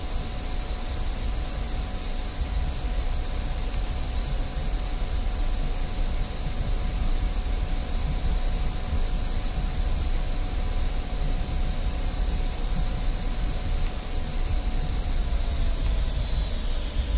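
North American F-86 jet in DCS World, a steady loud turbine whine and rumble droning continuously, with the tone dipping slightly near the end; no talking.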